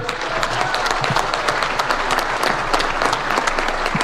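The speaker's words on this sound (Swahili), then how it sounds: "Makofi tafadhali." An audience gives loud, dense, sustained applause as the president is welcomed at a Kenyan event, with many hands clapping at close range. The clapping carries a faint murmur of the crowd beneath it.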